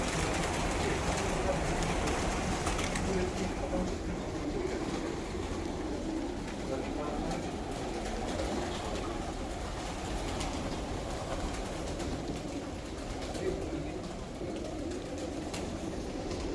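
Pigeons coo softly in a large coop holding around a thousand birds, including Mardin pigeons, under a constant low background din that runs through the whole stretch.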